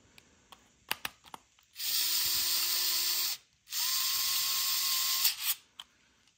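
A small Vessel 220USB electric screwdriver whirs in two sustained bursts, with a few mechanical clicks before and after the spinning.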